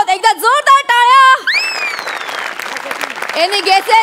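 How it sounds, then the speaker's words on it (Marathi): Applause at an employee of the year award announcement, a dense burst of clapping rising after a loud, drawn-out voice and continuing steadily under further voices to the end. "एकदा जोरदार टाळ्या."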